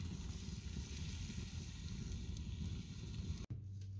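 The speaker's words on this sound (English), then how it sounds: "Andy is reheating it in the camp oven" Leftover stir fry of mushrooms, onions and beans with garlic, sweet chili sauce and oyster sauce reheating in a camp oven outdoors, a soft steady sizzle and hiss with low rumble, briefly interrupted near the end.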